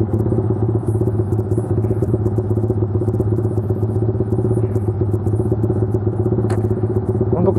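Deep, throaty exhaust of a Yamaha Vixion motorcycle bored up to 195cc, idling loudly and steadily, a rough rumbling burble with light rattling on top, no speech.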